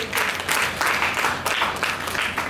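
A crowd applauds at a club foundation-day event, with brisk, continuous clapping that pulses in short swells for a couple of seconds.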